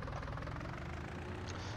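A farm tractor engine in the Farm Simulator 19 video game runs with a low, steady rumbling idle, heard briefly and quietly on its own.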